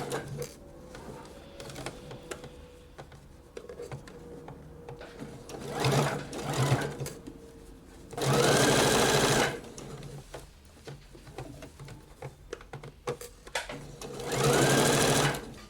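A sewing machine stitching a lace trim sleeve, with two loud close bursts of fast whirring stitching amid quieter handling and rustling of fabric.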